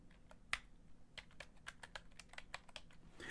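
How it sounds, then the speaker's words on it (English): Quiet typing on a computer keyboard right beside a microphone: soft, irregular key clicks in a steady stream, close and faint, with no talking. "Here's me typing quietly."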